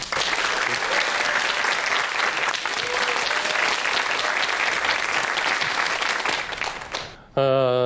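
Loud, sustained applause from a large audience fills the room, then cuts off abruptly near the end as a voice begins.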